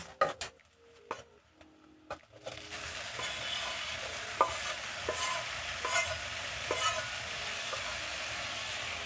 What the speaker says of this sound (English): Stir in my tomatoes